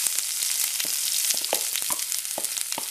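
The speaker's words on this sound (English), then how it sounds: "All right, so we add our aromatics, the onion, the garlic, and the ginger." Onion, garlic and ginger hit a smoking-hot pan, giving a steady, close, bright sizzle and frying hiss with scattered pops and crackles from splatter, no voices.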